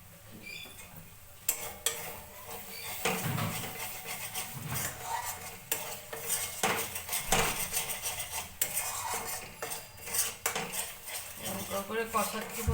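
Shahi paneer masala stirred and sautéed in a pan, with repeated loud metal spatula scrapes and clanks against the pan over a soft sizzle, continuing steadily throughout.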